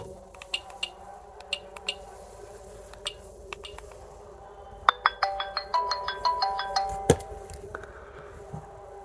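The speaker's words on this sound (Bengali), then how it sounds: "চলুন আমরা দেখি যে ফোনটির সাউন্ড কেমন ছিল।" A VMAX V16 keypad phone plays its ringtone, a bright electronic melody of repeated beeping notes that starts partway through and rings out clearly, after a few scattered faint clicks.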